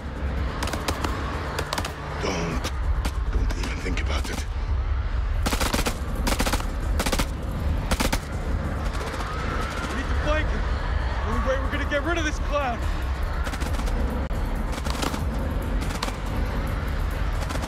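Rapid bursts of automatic gunfire from the video game House of Ashes rattle on and off over a steady low rumble, with short pauses between volleys and a voice talking over the shooting.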